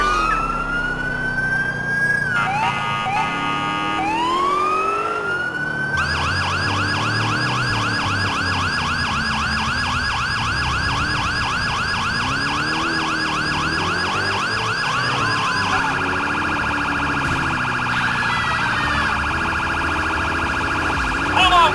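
A police car siren from the GTA 4 LCPDFR mod wails loud and close, shifting between rising sweeps and a rapid yelp pattern with a steady engine drone beneath it.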